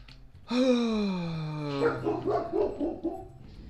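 A dog lets out a single drawn-out, whining bark that slides downward in pitch, followed by a few shorter yelping barks, close and fairly clear with nothing else competing.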